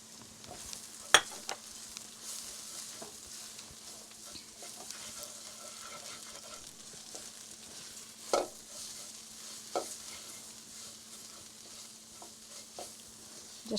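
Dry ground spices, chili, turmeric, cumin and garam masala, fry in a pan for vegetable korma with a soft, steady sizzle, broken by a few sharp scrapes and clicks of a spoon stirring.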